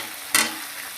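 Spice paste with chopped tomato frying and being stirred in a pan for a Bengali dried hilsa dish, a single brief scrape-and-sizzle burst over a quiet, steady low hiss.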